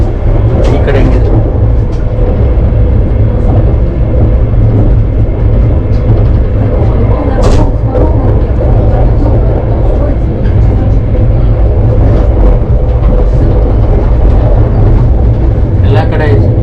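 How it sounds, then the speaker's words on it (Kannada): A passenger train riding on tracks in Russia, heard from inside as a loud, continuous low rumble and rattle with occasional clanks, with people talking over it. "Нормально, мы едем в поезде."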